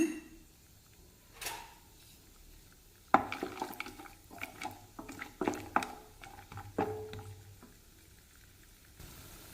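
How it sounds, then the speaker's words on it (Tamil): Cashews frying in hot ghee for semiya kesari, close by, with a sudden burst of crackling and sputtering pops that continues in irregular bursts amid stirring. No one speaks. "நெய் சூடாக இருக்கிற இஞ்சி பருப்பு சேர்த்துக்கலாங்க"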